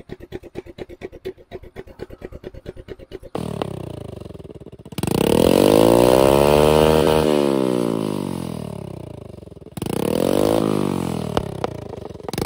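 A 124 cc motorcycle engine fitted to a homemade go-kart cranks with rapid clatter, then fires and runs loudly close by, its revs rising and falling in long sweeps before a brief dip and a second rev.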